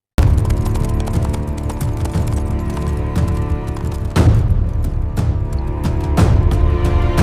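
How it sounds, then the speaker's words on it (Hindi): Horse hoofbeats approach from afar as a rider nears a field where laborers dig, in a rural village tale. Steady rhythmic clopping sits within a dense, continuous bed of sound, with heavier thuds landing a few times. "तभी दूर से घोड़े की टाप सुनाई दी।"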